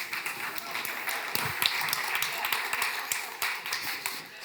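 A live audience at a talk on wealth applauds as scattered, uneven clapping from a modest crowd, with individual sharp claps standing out and fading out unevenly, fairly quiet and without talk over it.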